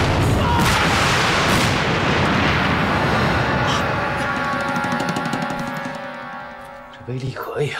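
A homemade bomb explodes in a wartime anti-Japanese drama scene, a loud sustained roaring blast with rumbling debris that slowly fades, followed by brief sounds near the end.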